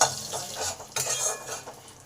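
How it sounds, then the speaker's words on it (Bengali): Cumin seeds and a broken dried red chili fry in hot oil, giving a faint, soft sizzle broken by a couple of light stirring scrapes in a pan. "এই জিরে আর লঙ্কাটাকে ভালো করে ভেজে নেব।"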